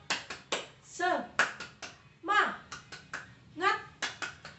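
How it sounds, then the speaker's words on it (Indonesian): Students doing a call-and-response clapping routine in a classroom, sharp rhythmic patterns of hand claps alternating with children's chanted voices, close and lively. "Pertama, kita tepuk semangat. Tepuk semangat."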